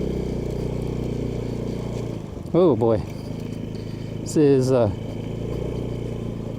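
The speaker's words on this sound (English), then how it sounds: "Let's go ride this scooter around." A 150cc scooter engine drones steadily while being ridden, and someone speaks briefly twice over the motor noise.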